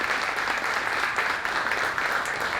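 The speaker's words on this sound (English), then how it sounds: "Want a big round of applause again for our analysts for joining us today" An audience applauds the analysts at a building energy event, giving a dense, steady wash of clapping from many hands throughout the brief stretch with no voices.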